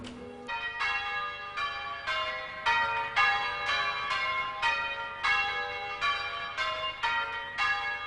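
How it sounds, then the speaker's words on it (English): Church bells rung in sequence by a team of ringers, a steady run of bright, overlapping metallic strikes about every half second, loud and close with no talk. "It's a complicated business, bell ringing."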